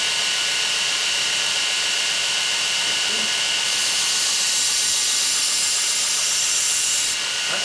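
A belt sander grinding a forged knife blade with a steady, loud abrasive hiss and whine that brightens partway through, with no talking.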